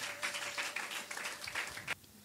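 A church congregation applauding together in dense, steady clapping that fills the room, then cuts off abruptly near the end.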